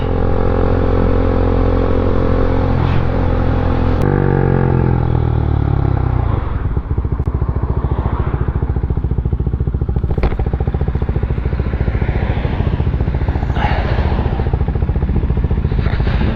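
A group of motorcycles rides together on a sunny road, engines droning loudly and steadily up close with shifting pitch as they accelerate, plus wind buffeting and rattles.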